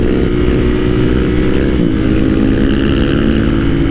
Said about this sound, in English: Dan's improved so much on his wheelies.